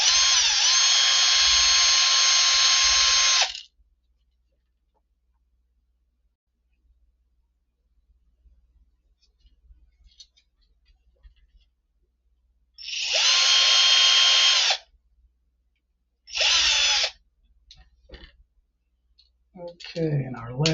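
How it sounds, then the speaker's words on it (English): A power drill bores holes in a guitar pickguard in three bursts: a long whirring run, a long stretch of near silence, then two shorter spins, ending with soft handling clicks. "The back, I'm going to have to drill a couple holes, fill a couple holes."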